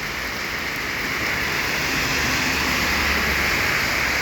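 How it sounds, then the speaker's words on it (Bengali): Heavy downpour on a roadside in Elenga, Tangail, with water pooling on the road. A dense, continuous hiss of rain holds steady and loud throughout, with no voices. "প্রচণ্ড বৃষ্টি"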